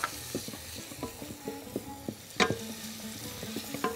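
Garlic cloves and a little onion frying in local Egyptian ghee, a soft steady sizzle with scattered stirring clicks and one sharper clatter midway, close and fairly quiet with no talk.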